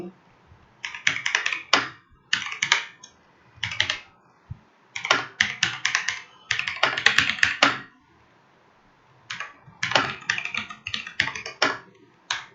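Computer keyboard keys tapped in quick bursts to type a street address during data entry, clustered runs of clicks separated by short pauses, close and fairly loud, with no talking.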